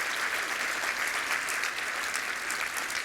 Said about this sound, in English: A round of applause for all of our sponsors tonight.